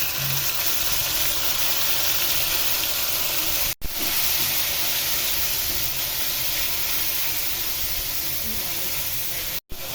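Garlic and marinated beef sizzle in a hot pan, a loud, steady hiss filling the whole stretch with a couple of brief cuts, close up and with no talk over it.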